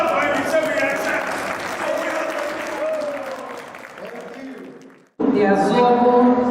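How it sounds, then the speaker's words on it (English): Guests at an upscale Igbo traditional wedding break into applause that runs steadily and fairly loud, with voices and chatter mixed in, briefly fading to near silence before the clapping and talk surge back. "please clap when you say we accept."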